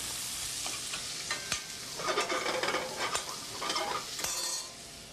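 Bacon sizzles and spits in a hot pan, a continuous close frying hiss with a few sharp clinks and stirring scrapes of utensils.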